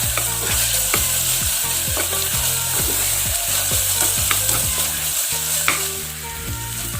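Ginger garlic paste sautéing with onions for mutton keema, a loud steady sizzle with rhythmic, repeated scraping strokes of a spatula against the pan.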